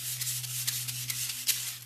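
Hand scuff sanding on lacquered furniture before priming and painting: a steady, close, dry rasp of abrasive strokes over a low constant hum, with no talking.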